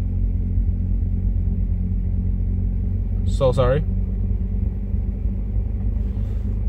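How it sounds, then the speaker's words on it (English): Snow trucks passing outside make a constant low, heavy rumble through the whole stretch, while a person briefly speaks over it midway. "Sorry for that sound, guys. It's the snow trucks"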